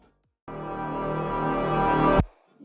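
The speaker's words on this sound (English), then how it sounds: "I added a beautiful reverse to make it flow better into this part." A reverse effect in a music production swells steadily from silence to a peak, then cuts off sharply, leaving a brief faint tail.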